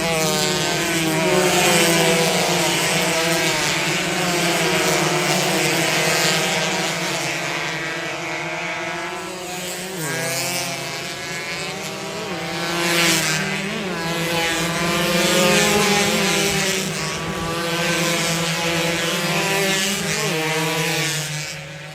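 Racing motorcycles at a drag race tear past loud and close, engines screaming in a sustained high-revving roar that rises and falls as bikes shift and pass, with no talk over them.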